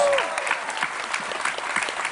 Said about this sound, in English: Let's give these three a big round of applause, ladies and gentlemen